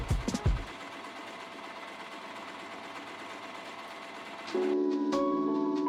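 Sewing machine stitching quilting lines through fabric with blue top thread, a steady continuous motor whir running close and even, with a higher-pitched stitching tone after a short pause near the end.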